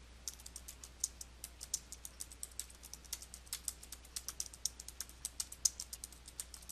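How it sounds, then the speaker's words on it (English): A computer keyboard being typed on in quick, irregular keystrokes, each one a crisp close-up click over a faint steady hum. "and then type your text."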